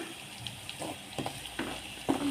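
Beresta, thinly sliced onions, frying in hot oil with a steady low sizzle and a few soft stirring scrapes, close and fairly quiet, no voices.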